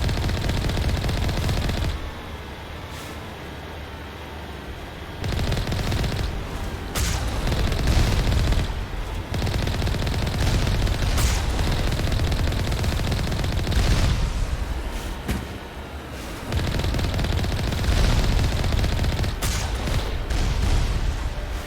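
Automated turrets firing in Mass Effect, a steady wash of rapid gunfire and dense booming that runs almost without pause, loud and layered, dropping off briefly a few times.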